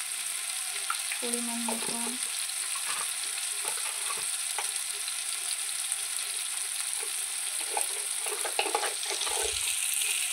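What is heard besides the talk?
frying spices with chilli and turmeric powder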